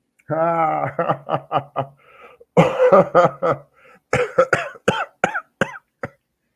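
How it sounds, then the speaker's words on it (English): A run of coughs and throaty hacks, some sharp and clipped, mixed with voiced, laugh-like sounds, loud and close. "One cough at a time."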